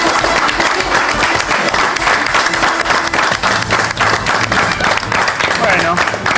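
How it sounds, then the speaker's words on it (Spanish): A room full of people gives sustained applause for a quiz winner, loud dense clapping throughout with some crowd voices mixed in. "la ganadora es Loriana, así que un fuerte aplauso para ella."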